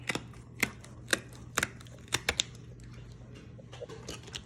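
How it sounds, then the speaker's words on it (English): A knife cuts through the top fins of a black seabass with a series of sharp, close clicks and crunches, about a dozen irregular snaps over a quiet background hum. "what I like to do is cut through the top fins, just like that"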